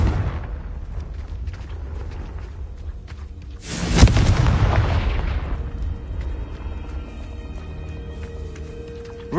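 An explosion in the video game Hogwarts Legacy: a sudden deep boom bursts out midway over low rumbling ambience, then slowly decays into a lingering roar.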